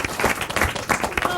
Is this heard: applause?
yes